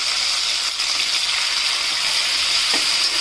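Tomatoes sizzle and fry steadily in a hot pan for a tomato and coriander chutney, a continuous close hiss with a brief stir or splash near the end, no voices.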